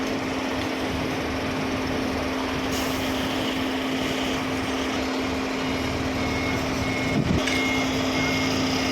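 A truck's reversing alarm sounds at a 3rd-floor slab concrete pour, a short run of beeps over a steady engine drone and constant site noise, moderately loud with no talk.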